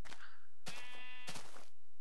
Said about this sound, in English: Shut up, sheep and chicken.